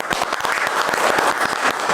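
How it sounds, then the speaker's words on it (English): An audience at an English debate event claps for its team, with dense, loud, continuous applause from many hands close by, without a break. "So you guys please clap for your team."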